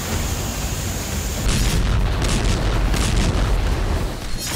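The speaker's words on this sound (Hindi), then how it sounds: "सुपर पावर रूस की धरती यूक्रेन के बारूदी विस्फोट से दहल उठी।" A sustained, heavy roar of explosive blasts from Ukrainian strikes on Russian territory, with dense low rumble, intensifying midway into repeated booming bursts, loud and continuous.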